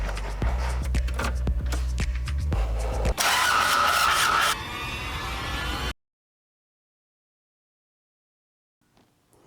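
A Toyota Corolla AE86 GTS cranks with a rhythmic, low starter churn, then catches and fires into a loud, raspy idle that cuts off abruptly into silence, with a faint rustle near the end.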